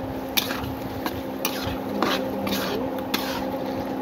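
Ladle scraping and clinking in a pot while beaten egg is stirred into ash gourd curry, scattered metallic taps over a steady cooking hiss, close and moderately loud.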